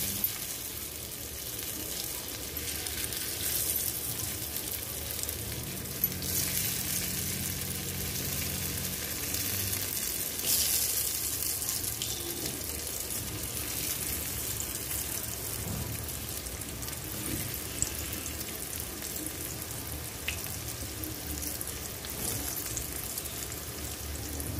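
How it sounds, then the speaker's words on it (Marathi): Alu vadi slices shallow fry in a pan of oil with a continuous soft sizzle and crackle, steady and fairly quiet throughout, with no voices. "आता मी ही शॅलो फ्राय करून घेते"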